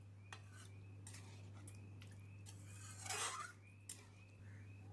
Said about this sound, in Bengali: জলটা দিয়ে ভালো করে আমি এগুলো মিশিয়ে নিচ্ছি